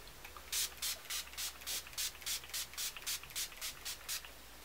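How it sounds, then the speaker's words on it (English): Rapid repeated pumps of Urban Decay All Nighter setting spray onto a face, about a dozen short fine-mist hissing bursts in an even rhythm, close up. "set my face with the Urban Decay All Nighter and just spray that all over my face"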